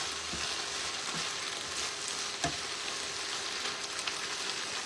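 Sausages sizzle and spit steadily in a hot frying pan, a soft continuous crackle with a few sharper pops and no voices.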